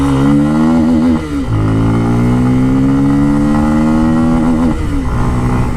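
Bajaj Pulsar F250 motorcycle engine revved hard toward its red line, loud close exhaust note climbing in pitch, dipping briefly, then rising steadily again before easing off.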